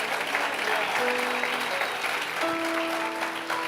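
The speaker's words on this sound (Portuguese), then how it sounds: "aplauda mais forte" A church congregation applauds during a Sunday-morning sermon, a steady, dense wash of clapping lasting throughout, with faint sustained musical tones underneath.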